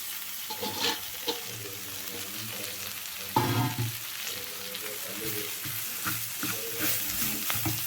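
Ground tender jackfruit stirred into a frying pan mixture for a poriyal, with a steady close sizzle of frying and repeated scraping stirs and a brief clatter midway.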